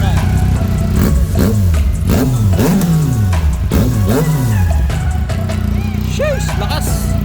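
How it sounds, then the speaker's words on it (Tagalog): A Yamaha MT09 inline-three motorcycle with an Akrapovic exhaust is revved hard several times in quick succession, each rev rising and falling close by, before it settles back toward idle. "Suabe ang macho na tunog ng Akrapovic. Inline 3 Yamaha MT09."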